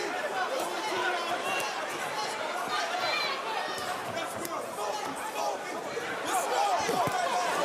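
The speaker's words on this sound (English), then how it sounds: "the crowd is going absolutely crazy in there right now" A boxing crowd cheers wildly at a fight night, a steady roar of excited voices and shouting that holds at high intensity throughout, with a commentator talking over it.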